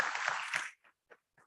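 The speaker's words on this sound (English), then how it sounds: "And a big round of applause for such people" Audience at a dental conference clapping in a dense burst of applause that stops abruptly after under a second, followed by a few scattered late claps.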